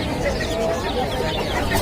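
Chickens and roosters cluck continuously in a dense, noisy chorus at a busy Sunday bird market in Ahmedabad, with crowd murmur mixed underneath.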